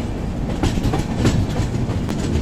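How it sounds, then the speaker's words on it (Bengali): The Coromandel Express from Shalimar to Chennai crosses points as it changes lines on a winding track near Visakhapatnam, heard from on board as a loud, close rumble with rhythmic clickety-clack wheel beats and no talking. "দেখো আমাদের ট্রেন করমণ্ডল স্ক্রাব নিয়েছে, একদম এঁকে বেঁকে লাইনটা যাচ্ছে"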